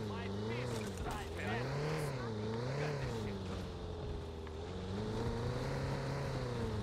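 Car driving in Watch Dogs 2, a continuous engine drone that rises and falls in pitch as the car speeds up and slows, steady and fairly loud with no break.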